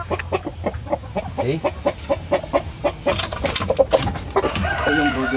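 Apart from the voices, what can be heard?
heritage chickens clucking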